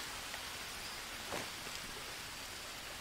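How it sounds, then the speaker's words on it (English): Steady rain falling in the Green Hell survival game jungle, a dense, even hiss of drops on surfaces, continuous and fairly soft with no talk. "Was that just the rain?"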